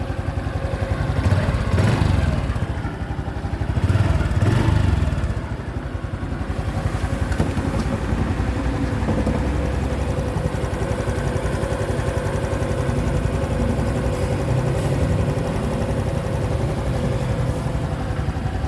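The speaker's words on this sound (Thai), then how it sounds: "เดี๋ยวเรามาฟังเสียงเครื่องดูนะฮะว่าเครื่องเป็นยังไงบ้างนะครับ" A Honda Wave 110i motorcycle, 2024, 110cc fuel-injected engine, idles steadily with a low, even chugging rumble, close by, broken by a couple of brief throttle surges early on.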